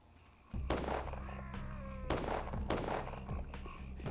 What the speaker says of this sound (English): gunshots ASMR